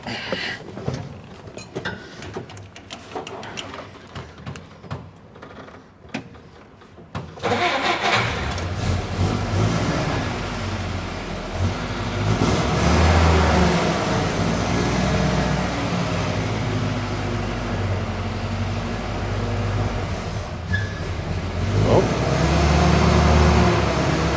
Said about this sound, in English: Let's take a drive and show you what it's like to ride in it.